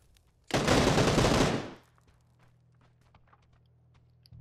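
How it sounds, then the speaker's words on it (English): Sustained automatic gunfire in the PUBG video game, a dense burst lasting about a second, loud and close, cutting off into near silence with a faint low hum afterward. "Are they shooting at each other?"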